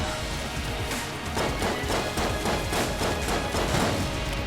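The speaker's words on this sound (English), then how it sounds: "That's an explosion, because of course it is." Explosions in the video game Enter the Gungeon, a dense burst of crashing blasts and rapid booming hits layered over continuous loud game noise.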